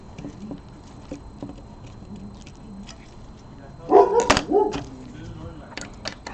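Dogs barking in a sudden short burst of several loud, overlapping barks nearby, breaking into a quiet room with faint handling noises during work on a Canon DSLR.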